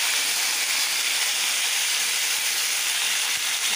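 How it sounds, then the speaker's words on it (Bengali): Nigella seeds and drumstick pieces sizzle in hot oil in a home kitchen pan, a loud, steady hiss that runs the whole time without a break. "এখন তেলটা গরম হয়ে গেছে, কালি জিরে ফোড়ন দিয়ে দিলাম"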